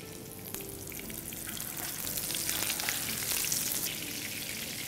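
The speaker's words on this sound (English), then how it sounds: "I have already kept a pan with oil for shallow frying. So this goes into the pan" Steady, loud sizzling and crackling of lamb mint kebabs shallow frying in hot oil in a pan, continuous throughout with no voices.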